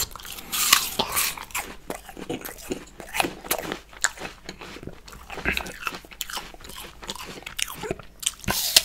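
Crisp, repeated bites and crunchy chewing of sliced apple and chayote, close to the mic, with irregular sharp crunches throughout.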